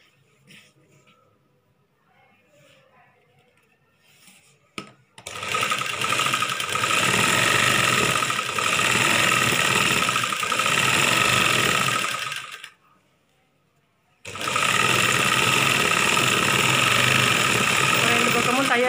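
Sewing machine stitching both side seams of a chudidar top, running in two long loud continuous bursts with a short pause between, with soft talk and handling noise before the first run.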